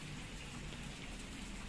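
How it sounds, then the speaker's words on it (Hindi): Heavy monsoon rain pours steadily in Chikmagalur, a dense continuous hiss of drops drumming on surfaces close by, loud and unbroken throughout with no voices. "इतनी तेज बारिश है, बहुत ज़्यादा।"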